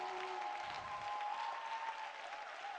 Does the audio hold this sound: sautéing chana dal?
no